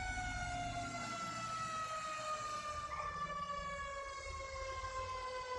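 Fire truck siren wailing continuously while the truck drives in GTA V with the LSPDFR mod, a loud steady electronic tone sliding up and down with engine rumble underneath.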